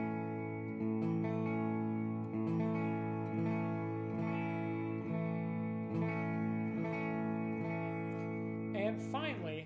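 Beginner strumming a guitar chord slowly, about eight evenly spaced strums each left to ring and sustain, close and clear, with a short voice near the end.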